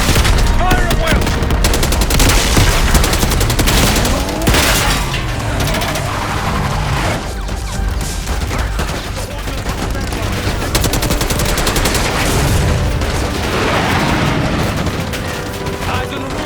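Heavy gunfire in Call of Duty Black Ops 6 during an assault on a palace gate, relentless overlapping automatic bursts and booming shots at high volume throughout, with soldiers' voices shouting in the mix.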